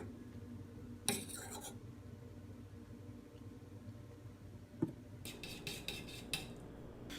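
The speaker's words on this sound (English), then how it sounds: "I don't have a whisk. So I'm going to be using this fork." A fork beats a milk mixture in a bowl for a pizza-night sauce, giving two short bursts of quick metallic clinks and scraping against the dish, with quiet room noise between them and no talking.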